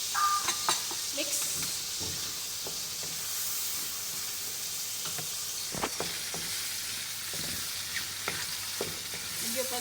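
Vegetable pasta being stirred with cooking cream in a hot pan, giving a steady soft sizzle and hiss with occasional scraping clicks of the utensil, fairly faint and alone.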